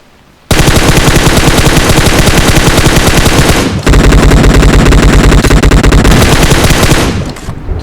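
Sustained automatic gunfire in the video game PUBG Mobile, very loud and close, two long unbroken bursts of rapid shots separated by a brief break, with no talk.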